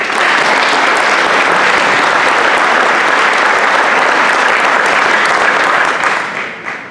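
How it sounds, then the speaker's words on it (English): Loud, sustained applause from a large audience at a hall of fame induction ceremony, steady clapping that fades slightly toward the end. "Let's hear it for Mark."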